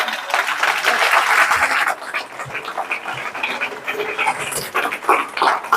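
An audience at a business motivational talk claps together in a burst of applause that is loud at first, then thins into scattered, uneven clapping.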